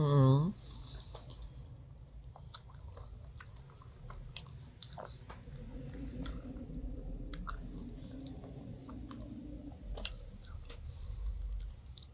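Durian being eaten up close, soft wet chewing and light clicking mouth sounds repeating steadily after a brief voiced sound at the start.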